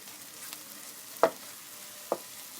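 A spoon stirs an egg tikki mixture with a spoonful of ghee in a pan, making two brief, soft scrapes about a second apart over a faint background sizzle.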